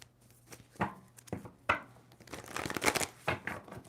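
Tarot cards are handled and shuffled close by, with soft irregular snaps and riffles that build to a denser flurry near the end, all fairly quiet with no talking.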